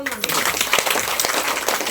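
A small group claps during an arthritis therapy session: a short burst of scattered, uneven applause with a few sharper claps, mixed with people talking.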